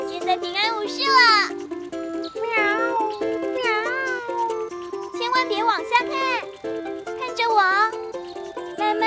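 A cat meows repeatedly in a cartoon scene, with high wavering calls rising and falling over several seconds, overlapping with voices talking.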